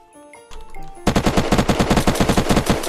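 Rapid automatic gunfire in Unturned, a sustained burst of loud, evenly spaced shots after a few quieter sounds, rattling on steadily to the end.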